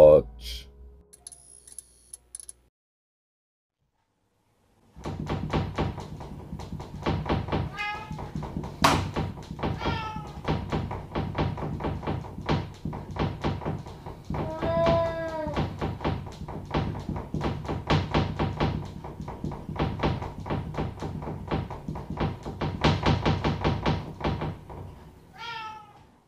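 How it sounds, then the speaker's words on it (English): A pet cat meows repeatedly at night, around 2 a.m., while banging comes from a door in a home; the mews recur through a steady stream of knocking and tapping after a brief quiet start. "his cat can be heard meowing at the banging, which is coming from one of the doors."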